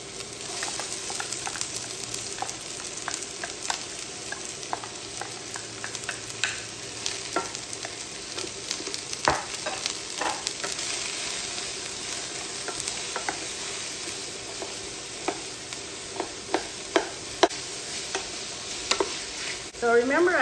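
Vegetables sizzle and crackle steadily in hot olive oil in a sauté pan, with occasional stirring clicks and scrapes over a continuous frying hiss, close and moderately loud with no talk.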